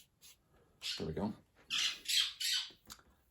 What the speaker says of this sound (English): That is my bird Raphael.